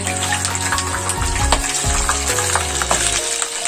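Chopped capsicum and tomato hit a hot pan for a chicken gravy, giving a loud, steady sizzle with scraping and clatter from stirring throughout and no talking.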